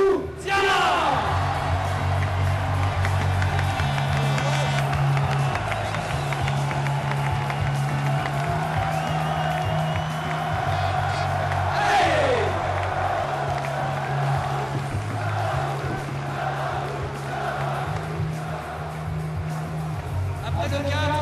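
A stadium crowd at a football team's player presentation roars and whoops for a player over a long, sustained stretch, loud and continuous with surges of cheering and music underneath.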